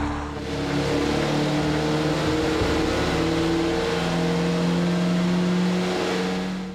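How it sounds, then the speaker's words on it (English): A Kia engine under torture testing on a dynamometer drones loudly and steadily, a sustained mechanical roar with strong low harmonics that holds level throughout with no talk. "Torture testing an engine on a dynamometer, a machine that replicates the work it would do in a car"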